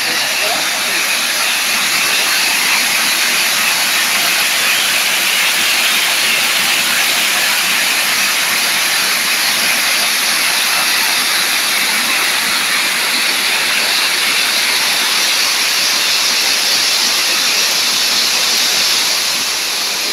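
Water flows steadily through an ecological park in Cuernavaca, Morelos, Mexico, as a loud, continuous rushing hiss with no pauses, close by and filling the whole stretch.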